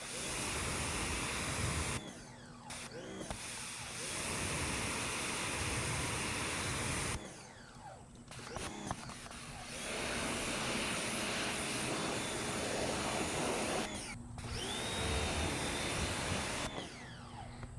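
A Sunjoe electric pressure washer sprays water onto a car for auto detailing, a steady broadband hiss that runs in several long bursts separated by brief pauses, close and fairly loud, with no talking.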